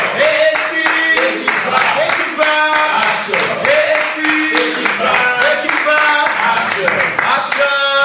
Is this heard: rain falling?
no